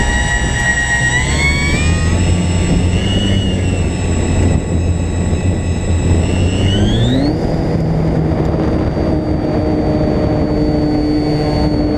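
An Avios Zazzy RC plane's electric motor whines loudly and steadily while taxiing at Cook Park, its pitch sweeping sharply upward partway through before holding a higher, steady tone.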